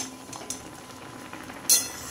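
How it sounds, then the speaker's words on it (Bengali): A spoon stirs pineapple chutney in a pan, making soft scraping strokes with light clinks and one brighter metallic knock near the end, close and brief with no talking. "যতক্ষণ না পর্যন্ত কালার চেঞ্জ হবে ততক্ষণ পর্যন্ত কিন্তু আমি নেড়ে যাব।"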